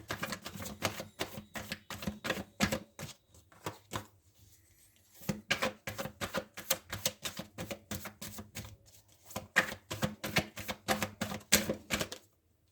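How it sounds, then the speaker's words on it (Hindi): A deck of tarot cards is shuffled close up, with quiet rapid riffling flutters in bursts and a short pause partway through, faint and alone. "कार्ड्स को शफल करना स्टार्ट करते हैं"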